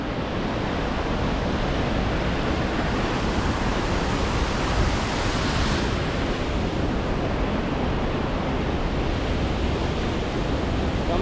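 Waterfall roaring down Gill Force gorge in Eskdale, Cumbria, heard from a viewing platform above: a steady, dense, unbroken rush of water that holds loud and even throughout with no talking.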